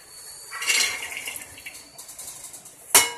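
Water is poured from a glass into a pressure cooker holding washed chickpeas, a short splashing pour with metallic clinks of the pot and a final clatter.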